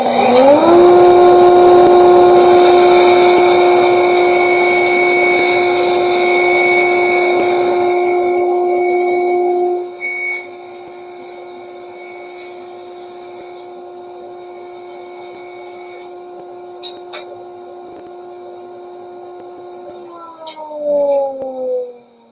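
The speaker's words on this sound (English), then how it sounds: "let's rip it through the bandsaw and get our piece" Bandsaw ripping a wooden test board in a home shop: a steady high tonal whine with harsh cutting noise at first, then the blade running free and winding down near the end.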